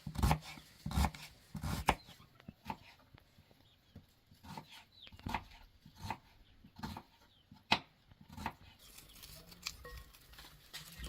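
Tomatoes, parsley and onions chopped for a salad outdoors in a village, a series of sharp, uneven knife strikes on a board, some louder than others, with quiet gaps between.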